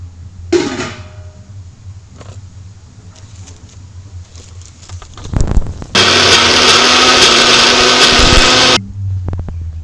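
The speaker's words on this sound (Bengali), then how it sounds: "আমাদের মটর ডালটা বাটা হয়ে গেছে লঙ্কা দিয়ে শুধু বেটে নিলাম" An electric grinder blends soaked pea lentils with green chili, roaring loudly and steadily for about three seconds after some clattering handling of the jar, then cutting off.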